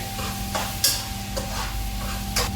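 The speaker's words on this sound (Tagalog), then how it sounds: "Haluin lang natin." Spoon stirring chopped tomatoes with browned garlic in a pan while cooking pinakbet, a few soft scraping strokes close by over faint background hum, with no talk.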